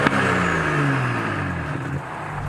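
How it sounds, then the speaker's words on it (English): A BMW M135i with the N55 engine runs close by, its steady hum easing down in pitch as revs fall, with no talking. "The wonderful N55 engine that we all love just purrs along beautifully"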